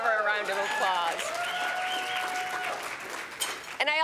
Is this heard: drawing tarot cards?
no